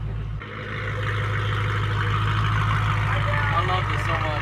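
A supercharged BMW M3 with a 700 hp kit and methanol injection sits close by, its engine giving a loud, steady, deep rumble that runs the whole time.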